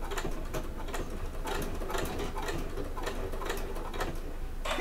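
A home sewing machine stitches in quick, rhythmic bursts while reversing a few times on bag fabric, a light pattering clatter at moderate volume with no talking.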